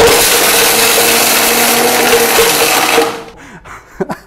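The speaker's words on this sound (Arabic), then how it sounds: "وتعالوا نفرم كده بسم الله." A powerful Raffles industrial blender roars loudly with harsh grinding and rattling as it crushes glass for about three seconds, then cuts off, leaving a few faint clinks.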